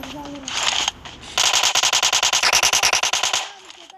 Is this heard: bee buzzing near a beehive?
no